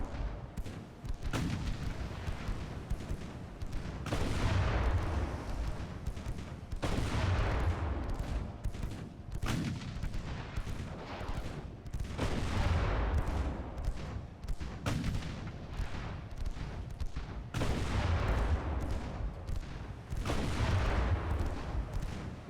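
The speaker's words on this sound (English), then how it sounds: "All those guns firing the 3 inches." Salvos of 3-inch naval guns boom in Ultimate Admiral: Dreadnoughts, heavy repeated blasts every few seconds, each with a rumbling tail, loud and continuous across the whole stretch.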